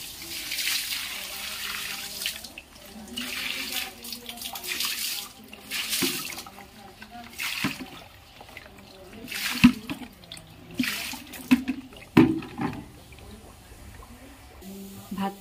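Water poured from a container onto a dried-out potted money plant at home, an intermittent splashing trickle with short pauses, close by, while people talk in the background.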